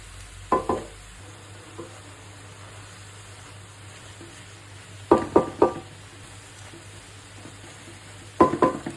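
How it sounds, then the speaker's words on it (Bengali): Frying in a pan with green chillies added, a faint steady sizzle beneath three bursts of spatula stirring and scraping against the pan, with no talking. "চুলাটা বাড়িয়ে এটা ভাজবো"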